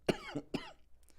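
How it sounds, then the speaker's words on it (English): Two harsh, close coughs in quick succession, followed by a faint breath. "Oh, big cough."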